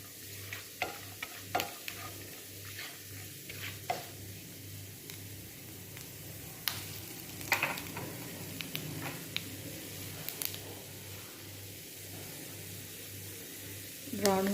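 Semolina (sooji) roasts in a pan for sweet suji halwa while a spoon stirs it, giving quiet scattered scrapes and taps over a faint, steady sizzle.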